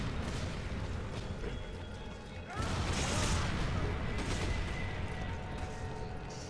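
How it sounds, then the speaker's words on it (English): A dynamite explosion in the video game Resident Evil 5 bursts out of steady, loud game noise, a heavy boom with a lingering crash that keeps the level raised afterward. "You just tried to throw dynamite uphill at me"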